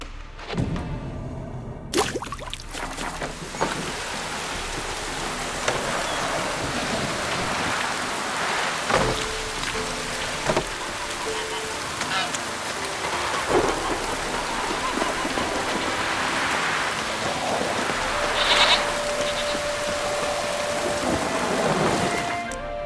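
Steady heavy rain patters throughout a Witcher 3 game scene, with deep rolling thunder claps near the start and scattered dull thumps, a continuous loud wash of storm noise with no talk.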